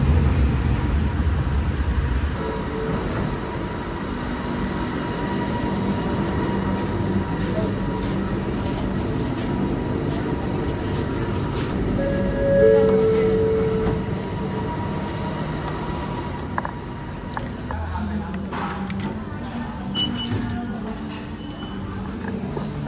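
Metro train ride between stations in Kuala Lumpur: a steady, loud rumble of wheels and motors fills the carriage for a long stretch, with brief squeals and clatter as the ride goes on.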